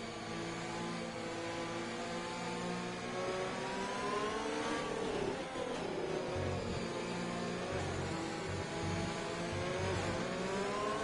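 A field of F1 cars in F1 2020 streams away at a race restart at Great Britain, engines revving and wailing together in a dense, continuous roar with rising and falling pitch.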